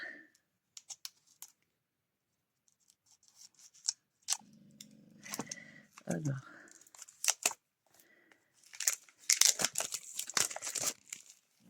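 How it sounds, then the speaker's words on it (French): Small scissors snip close up among crinkling and tearing of packaging, with scattered clicks and rustles, some bursts louder and denser near the end. "Il va falloir prendre des petits ciseaux pour aller ouvrir."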